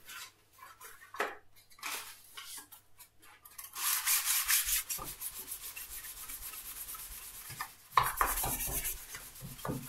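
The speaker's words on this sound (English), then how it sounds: "Now repeat with your 400 sandpaper." Wood being hand-sanded with 400 grit sandpaper, heard as soft rubbing strokes that grow into faster, steadier scratching passes, fairly close and quiet, with no talking.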